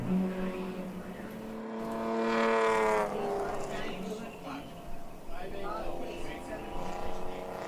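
Race cars in a ChampCar endurance race at Watkins Glen accelerating out of the inner loop toward the carousel, engine notes rising in pitch and swelling as a car passes, with commentators talking over it throughout.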